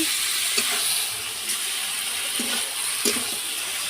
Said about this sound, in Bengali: মাংসটা ভালোভাবে কষাচ্ছি